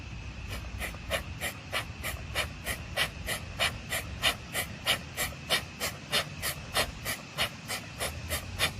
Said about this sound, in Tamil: ஒரு மூக்கு அடைச்சிட்டு ஒரு மூக்குல மூச்சு விடுறீங்க